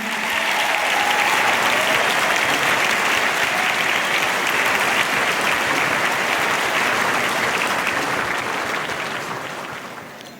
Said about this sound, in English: please, once again, a huge round of applause for all of our apprentices.